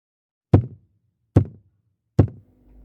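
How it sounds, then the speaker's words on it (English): Three slow, heavy knocks, evenly spaced, sound from above a bed in a dark, quiet room at night. Each thud is loud and close with a short decay, and there is silence between them. "3 knocks, slow, heavy, above me."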